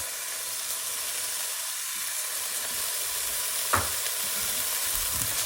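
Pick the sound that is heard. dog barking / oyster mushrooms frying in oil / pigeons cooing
oyster mushrooms frying in oil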